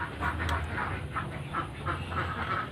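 Ducks kept for rearing quack repeatedly in a steady, fairly even rhythm, with soft nasal calls at moderate distance over a low background hum, without any talking.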